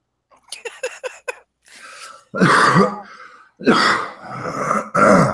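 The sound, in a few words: coughing fit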